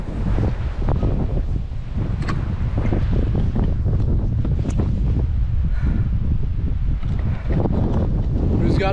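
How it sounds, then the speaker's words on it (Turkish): Strong wind on a mountain hiking trail on the Lycian Way, Turkey, buffets the microphone in loud continuous gusts, with rumbling rushes and a few faint clicks over it. "Rüzgar da başladı fena."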